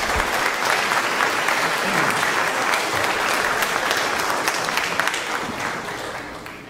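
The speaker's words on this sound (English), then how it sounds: "Let's give that a round of applause," A school spring band and orchestra concert audience gives a round of applause, dense steady clapping from a sizable crowd in an auditorium, fairly loud and continuous, tapering slightly at the end.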